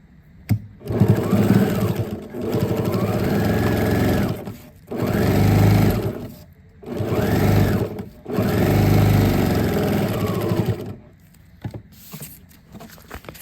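A sewing machine stitching an outdoor furniture cushion runs in four loud, close bursts of rapid whirring needle rhythm, separated by short pauses.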